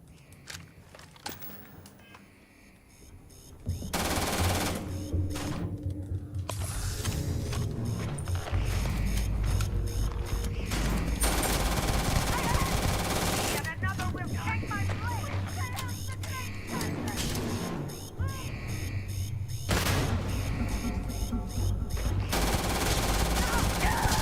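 Sustained automatic gunfire in the Starfield game, long dense bursts of rapid shots broken by brief pauses, loud and close, with a voice talking over it at times.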